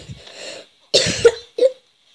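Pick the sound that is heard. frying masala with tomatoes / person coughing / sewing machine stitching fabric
person coughing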